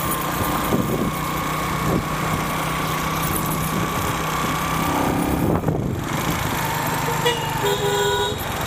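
Busy afternoon street traffic in Maadi, Cairo, with car engines rumbling steadily and several horn toots and honks, some close and loud, cutting through the road noise.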